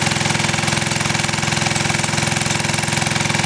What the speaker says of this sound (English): But now this engine's purring. It hasn't backfired, it hasn't sputtered or stuttered.